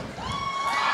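A crowd cheering and shouting at a Russian Kazachok dance lesson event, heard as a brief, steady wash of voices with high rising calls, moderately loud.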